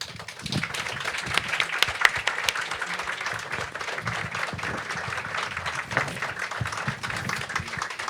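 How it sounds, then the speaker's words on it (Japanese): An audience applauds to welcome a performer onto the stage at a talk event about a band, a steady crowd of clapping with a few sharper claps standing out, no speech over it. "温かい拍手でお迎えください。"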